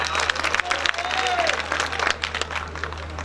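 Audience clapping at a mushaira, a poetry recitation gathering, as a crowd answers a poet's call; dense, steady applause from many hands fills the space, with brief voices and whistle-like tones mixed in.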